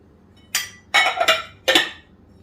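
Flour and sugar stirred by hand in a bowl for cake dough, giving three short clinking, scraping bursts against the bowl with quiet pauses between and no talk.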